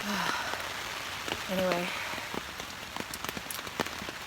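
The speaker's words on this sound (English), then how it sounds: "it is raining" Steady rain patters on the Appalachian Trail on a cold morning, a constant soft hiss with scattered drips close by, while a person talks briefly over it.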